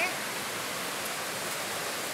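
A waterfall on a stream at Cachoeira do Antônico makes a steady, unbroken rush of white water that fills the whole clip at an even level with no other clear sounds.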